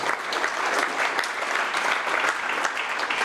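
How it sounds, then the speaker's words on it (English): An audience at a startup pitch night gives a panel speaker a steady round of applause, with dense, continuous clapping throughout. "Round of applause for Stuart."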